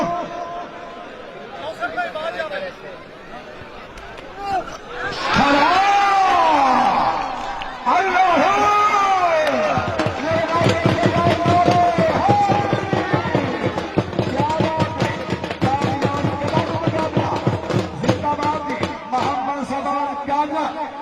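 A lively crowd claps and cheers, with chatter and whoops first, then dense, rapid clapping building through the second half amid shouts.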